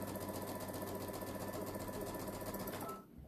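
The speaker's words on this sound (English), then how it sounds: "we're going to take this last section and we're going to sew those all together" Sewing machine stitching quilt fabric strips together in string piecing, a steady close rapid whirring hum with fast even needle rhythm running continuously for about three seconds, then stopping.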